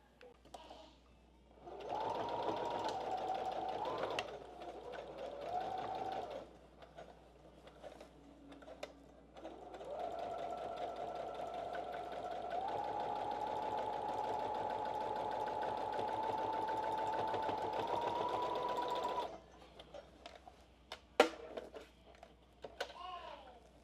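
A sewing machine runs top stitching straight down a thick upcycled skirt in heavier thread, in two bursts: a short run, a pause, then a long steady stretch, followed by a few handling clicks.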